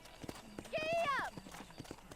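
In the Red Dead Redemption video game, a horse gallops with quick, rhythmic clip-clop hoofbeats. A short, high whinny rises in the middle, and a faint voice is heard nearby.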